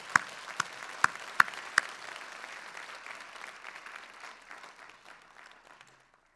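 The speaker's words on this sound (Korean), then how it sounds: "우리 박수로 격려했으면 좋겠어요." A church congregation applauds to encourage a member, opening with a few sharp, loud claps before settling into steady, even clapping that fades out near the end.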